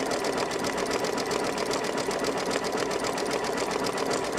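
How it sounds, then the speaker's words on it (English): An embroidery sewing machine working a satin stitch gives a fast, steady, close mechanical rattle and hum with no pauses. "right now we are just doing the satin stitch all the way across"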